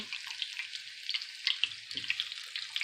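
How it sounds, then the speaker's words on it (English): Oil sizzles and crackles steadily and close up as battered zucchini fries cook over a gas burner on medium-high, a dense bright frying hiss with small pops and occasional soft stirring clatter. "they are frying up pretty fast"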